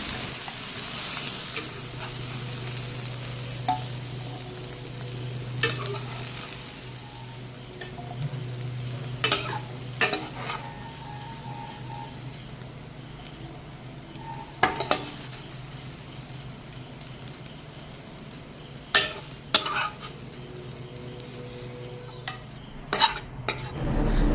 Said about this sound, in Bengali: এখন আমি 3-4 মিনিট মতো মিডিয়াম টু হাই ফ্লেমে ভেজে নিব